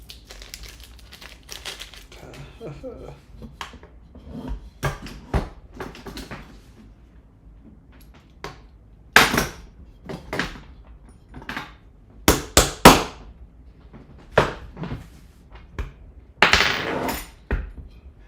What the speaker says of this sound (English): I just need like a bolt to kind of bop this in with.